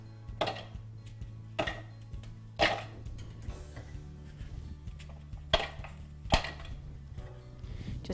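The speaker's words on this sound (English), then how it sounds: "So we crumble our biscuits." Digestive biscuits are broken into chunks by hand, giving a series of sharp, dry cracks and snaps at irregular intervals over a low steady hum, close and fairly quiet.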